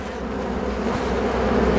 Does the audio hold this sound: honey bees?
yes